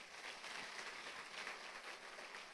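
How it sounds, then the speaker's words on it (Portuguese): A church congregation applauds in praise of Jesus during a sermon, steady broadband clapping filling the whole stretch at a faint, distant level with no voices over it. "Você pode dar uma salva de palmas a Jesus por isso?"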